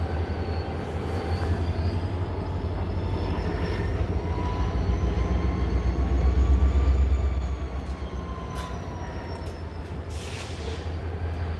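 A freight train backing into a hump yard rumbles slowly and steadily, with deep low-end drone, faint metallic squeals and clanks, swelling briefly louder before easing back.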